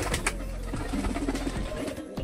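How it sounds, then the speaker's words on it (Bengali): Pigeons cooing close by as they gather for feeding, soft low throaty coos repeating over a few seconds against light background noise. "দেখো বন্ধুরা সব পায়রা কিন্তু চলে এসছে অলরেডি।"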